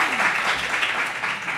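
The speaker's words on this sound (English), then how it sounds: "Can we give them a round of applause?" Audience applause for a professional services team at a Women in FinTech panel event, a continuous dense clapping wash heard close and steady throughout the short moment.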